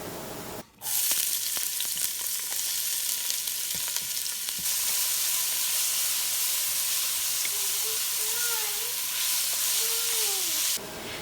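Onions hit shimmering coconut oil with a sudden loud sizzle after a brief quiet moment, then keep frying with a steady close hiss that cuts off abruptly at the end, with faint tonal squeaks partway through.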